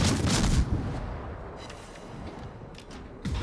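Naval artillery fire in World of Warships, with heavy booming shots at the start and again near the end, separated by a rumbling, crackling decay.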